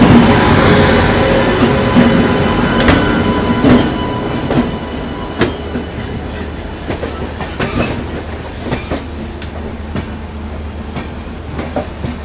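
The Ispat Express, an Indian passenger train, heard from inside while riding: a loud, continuous rumble with rhythmic clickety-clack wheel beats and sharp jolts. It slowly grows quieter, with no voices.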